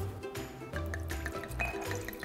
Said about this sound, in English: So first you're gonna have to empty out the wine bottle.